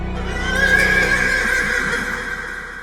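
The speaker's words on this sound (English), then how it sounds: "Then there's his horse, named Dan. As for names, my horse is Dan. Ain't that right, Dan?" A horse named Dan gives a loud, drawn-out whinny lasting nearly three seconds, close and clear, with a faint hoof clop beneath and no talking.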